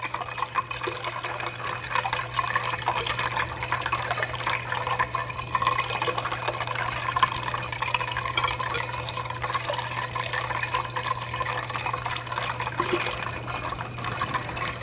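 Water poured and swirled while rinsing out a container three times at a museum chemistry demonstration, a steady trickling and filling sound that runs continuously at moderate level over a low constant hum, with no talk.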